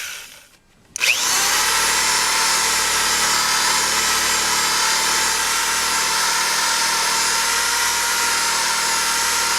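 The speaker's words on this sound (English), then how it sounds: "this side I'm just going to use just a buffing ball. No sanding yet." Buffing ball on a power tool polishing car paint, spinning up abruptly after a short quiet moment into a steady, loud, high whirring drone that holds evenly to the end.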